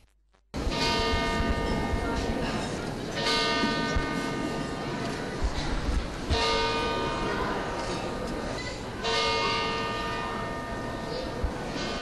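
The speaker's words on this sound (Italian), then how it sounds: "risuonano solo i rintocchi della campana della torre civica per 7 minuti" The civic tower church bell in Treviso's Piazza dei Signori tolls in slow, loud, ringing strikes, each swelling and decaying into the next across an open square with no talk.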